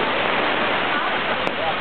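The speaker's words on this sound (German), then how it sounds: "Hier sieht man ja den Regen." Heavy rain pours down during a storm in Berlin as a dense, steady rushing wash close by, with a brief faint click near the end.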